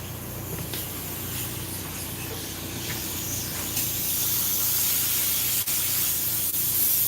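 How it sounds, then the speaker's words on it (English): An air compressor's nozzle blasts a steady stream of air onto a camera lens, making a close, continuous hiss that grows slightly stronger over several seconds, with a brief dip near the end. "blast the lens with a little air."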